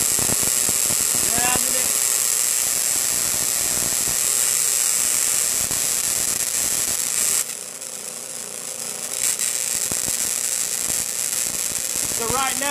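A Tesla coil discharging and shorting through a vacuum chamber as the vacuum is pulled, giving a continuous buzzing, crackling electrical hiss with rattling bursts that dips briefly midway, heard close and loud with some talk in the background.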